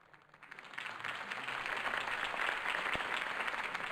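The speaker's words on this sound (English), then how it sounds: "If only Mr. Wayne, my campaign's largest backer, could have heard that applause" A crowd at Harvey Dent's campaign rally in the Batman Telltale game breaks into applause that swells from quiet to a dense, sustained clapping roar.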